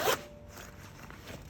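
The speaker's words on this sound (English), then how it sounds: "zip it in" A zipper on a film changing bag is pulled shut in one quick, close rasp, followed by faint handling rustles.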